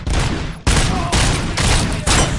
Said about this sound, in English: Bastard shot me!